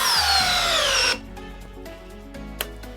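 A Milwaukee M12 12-volt hammer drill drives a 5-inch power lag screw into wood, its motor whining and dropping in pitch under load for about a second before stopping, followed by quieter handling noise.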